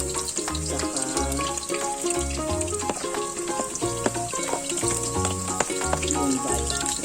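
Garlic and onion sauté in a pan for pancit bihon, giving off a steady close sizzle, while background music plays throughout.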